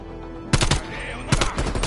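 Rifle fire in Call of Duty Black Ops Cold War, two loud close bursts of rapid shots about a second apart over a steady game background hum.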